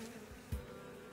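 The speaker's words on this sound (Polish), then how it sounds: "zresztą trwa mały konflikt pomiędzy pszczołami" Honeybees buzz faintly around an opened hive where robbing bees are fighting, a soft continuous drone with one brief closer buzz passing by midway.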